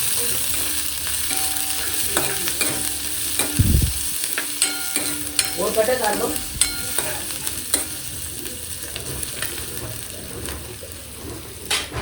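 Onion and curry leaves frying in a pan on a new gas stove, a steady close sizzle with stirring scrapes and clinks throughout, plus a brief splash of water partway through.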